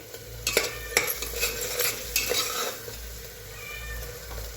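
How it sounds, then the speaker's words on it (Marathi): Ingredients for a mutton curry fry and sizzle in oil, a steady hiss with scattered clicks of stirring and utensils, fairly close and with no voice over it. "हे अशा प्रकारे सर्व साहित्य तळून घ्यायचं आहे"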